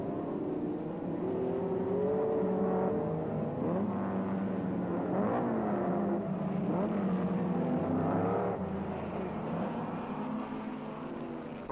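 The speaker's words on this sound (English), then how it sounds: "Determined to grab the lead, Gregory keeps on the Cooper's tail" 1962 Lotus and Cooper race cars at Mosport, engines droning loud and continuous with rising and falling pitch as they run close together, gear changes audible between surges.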